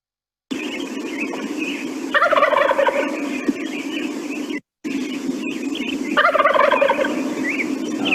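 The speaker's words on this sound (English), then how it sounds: "It's the classic gobble that you hear like right around Thanksgiving." Wild turkey gobbles ring out repeatedly and clearly, each rapid, rattling burst rising over a steady background hiss, with a short break in the middle before the gobbling resumes.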